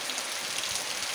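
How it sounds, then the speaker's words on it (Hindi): Heavy rain pours steadily in a mountain setting, a dense continuous hiss of drops hitting surfaces, close and loud with no voices. "बारिश हो रही है बहुत ख़तरनाक।"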